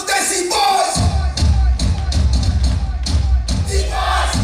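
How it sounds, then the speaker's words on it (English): An audience at a school annual day program in Chandrapur claps and cheers for a dance group. The noisy crowd applause is steady, with scattered whoops and a heavy low rumble throughout. "So please give them a big round of applause. Make some noise for the Desi Boys!"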